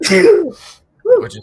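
A sharp, bursty sneeze-like expulsion, loud and close, followed after a brief pause by a short spoken phrase.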